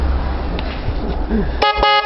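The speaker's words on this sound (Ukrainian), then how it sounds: "О, бач, навіть сигналять." A car horn beeps twice near the end, loud and close, after a stretch of rumbling background noise; the horn is on a Kentavr walk-behind tractor converted into a small motor tractor.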